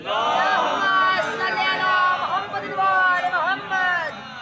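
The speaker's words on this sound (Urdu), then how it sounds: "بلند ترین نعرے صلوات." A large gathering at a Shia majlis mourning Imam Ali's martyrdom loudly chants the salawat in unison, many voices blending into a sustained, swelling chorus that rises and falls without pause.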